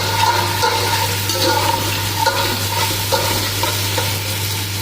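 Onions fry in hot oil as ginger garlic paste is stirred through them for an Arabic kabsa rice, a continuous close sizzle with a steady low hum underneath and scraping stir strokes, no voices.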